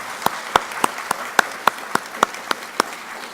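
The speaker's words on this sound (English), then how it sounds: "A round of applause, I think." A small gathering claps for breakfast organizers who set up the tables, with about a dozen distinct, evenly spaced hand claps, sparse and close, with no talk over them.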